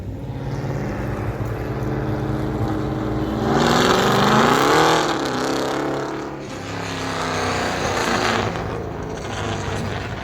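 A loud engine in a Dodge Charger stunt car replica drones steadily, swelling into a rising rev and easing back down before settling into its constant roar.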